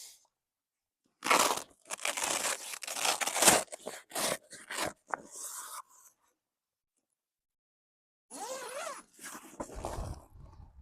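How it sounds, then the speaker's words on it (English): Zipper being pulled shut on a deflated inflatable bounce house and slide combo, a few rough ripping strokes in bursts, close, followed by a brief voice near the end. "Get the last zipper."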